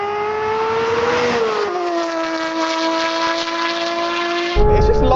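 A Porsche GT3 RS launches hard in a drag race with its tyres spinning, the engine screaming at a loud, sustained high pitch that dips once, then ends in a rough, roaring burst.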